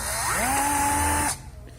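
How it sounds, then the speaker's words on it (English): Power drill spinning up and running steadily while boring into a BMW E46 intake connector, a rising whine that holds for over a second before cutting off abruptly, close and loud. "we're going to keep doing some more drilling"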